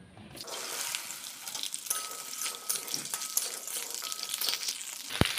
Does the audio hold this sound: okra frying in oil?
yes